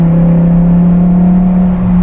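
A Lamborghini Temerario supercar engine drones loudly and steadily from close range with a strong, even tonal hum, and the pitch dips slightly near the end as it downshifts.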